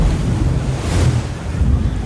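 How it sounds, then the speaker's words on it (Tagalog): Continuous roar of wind buffeting the microphone along with a rushing wash of surf, steady and loud with no voices. "Yung hampas ng alon o yung malakas na ihip ng hangin?"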